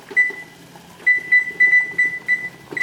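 A short electronic beeping at a steady high pitch, sounding in brief bursts and then in a quicker run of repeated beeps, clear over a quiet background.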